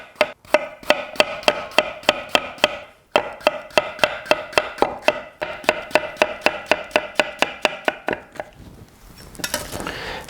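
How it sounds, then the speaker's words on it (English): A knife chops cucumber thinly on the angle against a cutting board: fast, steady, close taps in a long even run, with a brief pause partway and some rustling at the end, no voice. "I'm going to slice the cucumber on the angle as thin as I can get it."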